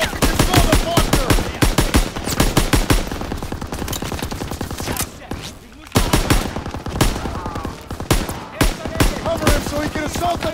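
Rapid automatic gunfire from a machine gun emplacement in Call of Duty: WW2, on the Hill 493 mission, sustained loud bursts with brief pauses, dense and continuous under battlefield noise.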